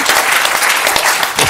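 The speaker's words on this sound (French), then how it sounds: "si vous voulez applaudir, vous pouvez applaudir, c'est pas interdit." An audience at a conference opening applauds steadily, a dense burst of clapping from many hands, loud and close.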